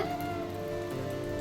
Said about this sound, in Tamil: ஆனால் மழை ஒன்று தூரிட்டு இருக்கு